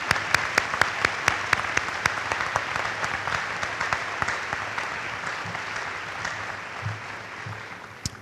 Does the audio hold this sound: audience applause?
yes